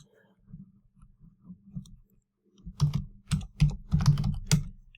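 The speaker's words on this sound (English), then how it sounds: "you can type either in the box directly" Keys on a computer keyboard clatter in short bursts, light taps at first, then a denser, louder run of clicks close to the microphone.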